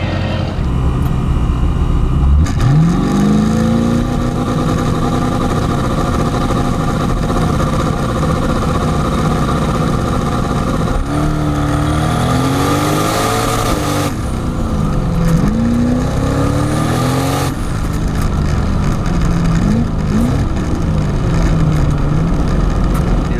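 Twin-turbo Mazda RX-7 launching hard at a drag strip, engine note climbing through several gears with upshifts, loud and close, rotary roar and turbo whine sustained throughout.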